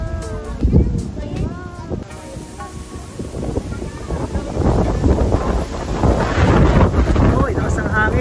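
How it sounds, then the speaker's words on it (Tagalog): Strong wind on an island, under coconut trees, buffets the microphone in heavy low rumbling gusts, rising louder in the second half, with brief voices near the start. "Uy, lakas ng hangin."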